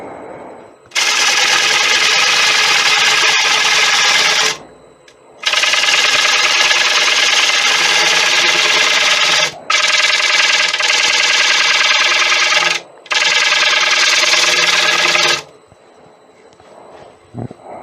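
A woodturning lathe hollows a 17-inch acacia bowl as the tool cuts in four long, loud scraping and hissing passes, each stopping abruptly, with the machine's low hum between them.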